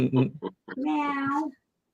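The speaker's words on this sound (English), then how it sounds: "Down the hall, meowing her head off." A cat lets out one long, loud, drawn-out meow, preceded by a few short vocal sounds, then goes quiet.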